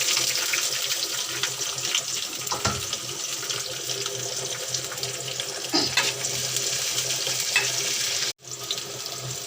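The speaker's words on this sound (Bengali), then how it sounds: "অন্য চুলায় তেল দিয়ে দিয়েছি, গরম হয়ে গেছে। এখন দিয়ে দেবো রসুন, দিয়ে দিলাম পেঁয়াজ কুচি, দিয়ে দিলাম কাঁচা মরিচ" Garlic, chopped onion and green chillies fry in hot oil on a stove, making a continuous, fairly loud hiss and sizzle with a few faint clinks and a brief dropout near the end, without talk.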